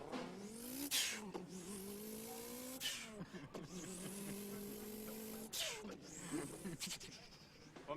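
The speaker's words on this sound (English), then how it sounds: "For me, that sounds like a Boxer engine." A car with a boxer engine and a working wastegate accelerates hard through several gears, each rising pitch sweep breaking off at a shift with a short whoosh, moderately loud and steady.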